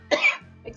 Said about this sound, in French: en ce moment j'arrête pas de tousser comme d'habitude